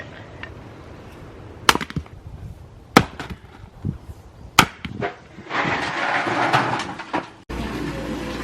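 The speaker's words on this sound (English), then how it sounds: "we're going to the woodpile while it's not pouring so we can cut up some wood" Wood being chopped at an outdoor woodpile: a handful of sharp, irregularly spaced strikes rise above quiet background rustle, followed by a noisier, scraping stretch near the end.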